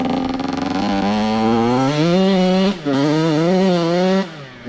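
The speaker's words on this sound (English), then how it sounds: "He's never rode a dirt bike before." A 450 dirt bike engine revs hard in mud on a rainy hill, loud and close, with rising and falling pitch sweeps, a brief drop near the middle and a throttle cut near the end.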